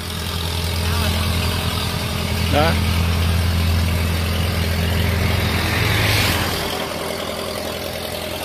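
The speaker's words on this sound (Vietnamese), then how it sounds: "ghe cầu hến nha các bạn" A clam-raking boat's engine idles steadily on a river at sunset, a loud continuous low rumble running through the whole stretch while someone talks over it.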